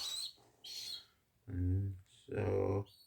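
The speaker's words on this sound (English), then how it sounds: "I will show you what other pigeons I've got in the loft" Pigeons in a loft, their chirpy calls coming in a few short bursts, the later ones fuller and louder, with quiet gaps in between.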